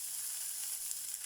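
Shrimp and onions sizzle steadily in a hot frying pan, a close, continuous bright crackle with no talking.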